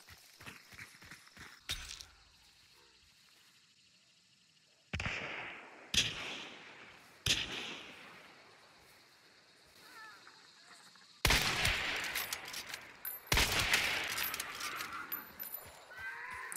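Gunfire in a multiplayer video game: several sharp, loud bursts of shots come at irregular intervals, with quieter stretches between them and heavier rapid volleys near the end.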